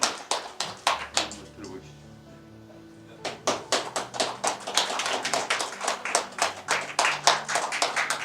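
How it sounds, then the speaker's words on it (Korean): Audience at a Honam regional breakfast forum clapping in a lively, uneven burst of applause, pausing briefly before resuming with sharp, close handclaps and a voice speaking over the start. "큰 박수 부탁드립니다."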